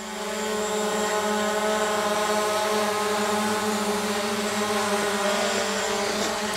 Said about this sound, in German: Corinna hat eine Drohne.